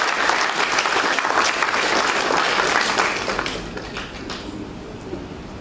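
An audience at a youth eloquence circle claps for their mentor, a dense loud burst of applause that thins and fades after about three seconds into lighter scattered clapping.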